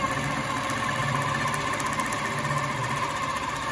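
A quilting machine stitching a quilt row by row, a steady, continuous mechanical hum and rapid needle chatter at even volume throughout, close by with no talk.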